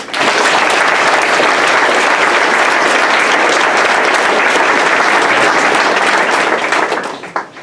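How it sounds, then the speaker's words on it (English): Sustained applause from an audience at a senior sports banquet, loud and steady for several seconds before tapering off at the end, with no talk over it. "Let's give them a round of applause"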